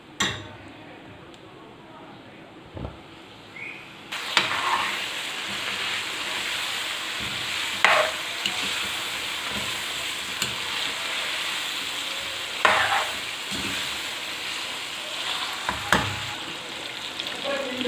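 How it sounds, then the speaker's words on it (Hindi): Green chillies fry with chicken karahi in a pan, a steady hiss of oil broken by occasional spatula scrapes and clinks against the metal, heard close throughout with no clear talk. "सब्ज़ मिर्चों को मैंने इसके साथ पका लिया थोड़ा सा"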